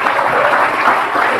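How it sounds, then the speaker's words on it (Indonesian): An audience gives a brief, steady burst of clapping during an interview about a construction worker's success, loud and continuous with no pauses. "kita kasih tepuk tangan dulu lah ya"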